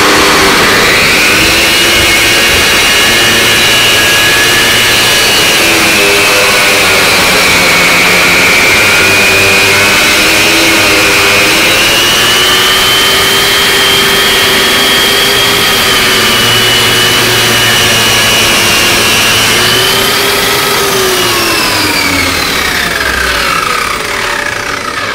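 A Hilti DCH 150-SL wall chaser whines loudly and continuously for a long stretch cutting grooves, its pitch shifting as it grinds through material, then spinning down near the end.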